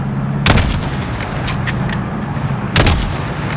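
Gunfire in the video game Call of Duty Modern Warfare during a fight against a pickup truck: two heavy, booming shots about two seconds apart over a constant low engine-like rumble.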